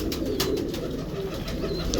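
A Sialkoti pigeon coos in a steady, low, throaty rumble up close, the soft cooing continuous throughout with faint chirps above it.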